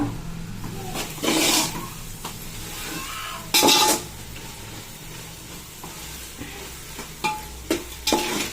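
Gongura (sorrel leaf) pickle being stirred and mixed by hand in a pot, with close scraping bursts at irregular intervals over a low background hiss and no speech.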